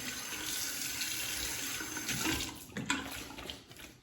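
A razor being rinsed under a running tap, with a steady stream of water splashing into a sink and a few brief clatters and surges toward the end.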